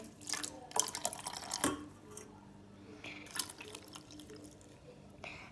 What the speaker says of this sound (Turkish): Şimdi üstüne su döküyorum.